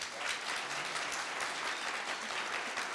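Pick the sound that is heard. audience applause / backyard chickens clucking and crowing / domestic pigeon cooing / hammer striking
audience applause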